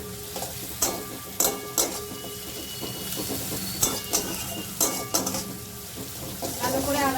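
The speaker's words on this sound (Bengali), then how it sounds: "ভালো করে আদাটাকে নাড়ি চাড়ি নিতে হবে" Grated ginger fries in a pan while a spoon stirs it. Metal scrapes and knocks come at an uneven pace over a steady sizzle, with faint background noise and no clear speech.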